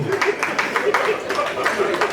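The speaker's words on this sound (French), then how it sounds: "Applaudissez pour Jésus." Audience at an honour-roll ceremony for artists and comedians claps in steady, rhythmic unison, loud and close, with faint voices underneath.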